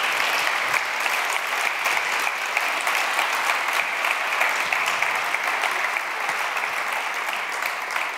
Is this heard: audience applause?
yes